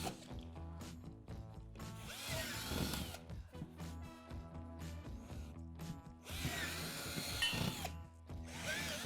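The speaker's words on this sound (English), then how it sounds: "Drill out the 11 locations from the top down on each floor panel." A power drill whirs in repeated bursts, spinning up and biting into playset floor panels, with short pauses between holes and no talking.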